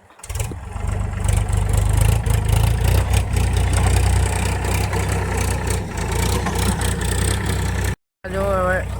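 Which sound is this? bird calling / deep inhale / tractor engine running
tractor engine running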